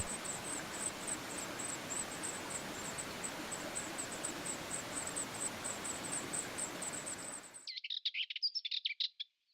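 A grey wagtail repeats a rapid series of high, thin chirps at its nest by a river, heard over the loud steady rush of flowing water. The water cuts out near the end and a brief burst of clearer calls follows.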